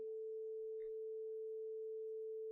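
A steady, faint electronic hum from the video game Chaos;Head Noah holds one unchanging pitch throughout, with no other sounds around it.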